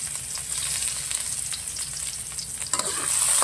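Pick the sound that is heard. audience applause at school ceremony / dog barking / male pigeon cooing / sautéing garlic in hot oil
sautéing garlic in hot oil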